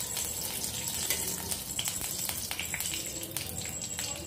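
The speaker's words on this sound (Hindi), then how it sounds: "अब मैं इसमें 2 टेबल स्पून घी डालूंगी" Ghee hits a hot kadai with a continuous crackling sizzle, like fine rain, that holds fairly steady at moderate loudness throughout.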